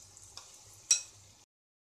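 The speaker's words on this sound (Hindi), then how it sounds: "देखिए अच्छे से फ्राई हो गए हैं गोभी हमारे" Cauliflower florets frying in hot oil for Gobi 65, a soft steady sizzle with a brief louder stir or clatter partway through, then silence.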